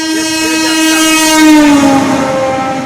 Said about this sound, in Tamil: நமக்கு ஏற்றாப்புல ஏதோ ட்ரெயின் வந்துட்டு இருக்கு.